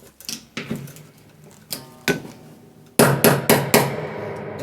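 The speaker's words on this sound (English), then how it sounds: "Again, going for the T-hammer" Sharp metallic taps from a T-hammer striking piano tuning pins, a few scattered strikes and then a quicker cluster of four, ringing briefly in a quiet room.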